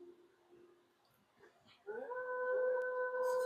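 A dog howls in a Nintendo Switch 2 video game, a sustained rising wail with harmonics that starts partway through after quieter low sounds and holds to the end.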